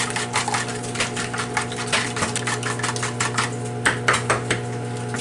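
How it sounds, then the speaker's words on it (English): A fork beats eggs and a splash of milk in a bowl, making quick, rapid, repetitive clicking and tapping against the dish, loud and close with no talking. "Beat it up real good. You can use a whisk, but I just happen to have this fork sitting right here"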